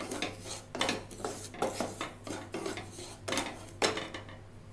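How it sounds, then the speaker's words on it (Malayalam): Semolina roasting in ghee in a pan is stirred with a metal spoon, making repeated scraping and clinking strokes at an uneven rhythm, close and fairly quiet, with no talk. "ഈ നെയ്യിൽ ഈ റവ വറുത്തെടുക്കണം"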